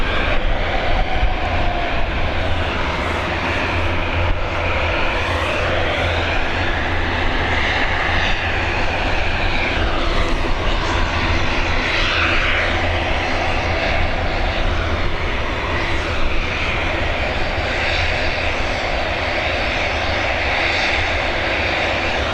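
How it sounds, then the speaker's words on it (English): An ATR 72-600 turboprop departs Dublin Airport's runway 28L, bound for Donegal, with a loud sustained propeller drone and engine whine whose pitch sweeps up and down as it passes, no voices. "Our next departure, this ATR 72600 series, heading over to Donegal."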